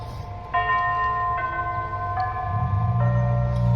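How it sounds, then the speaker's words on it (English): A large outdoor clock's big chimes strike a slow sequence of sustained bell tones, each ringing on into the next, clear and fairly close over a windy background rumble. "Okay, the big chimes are going now."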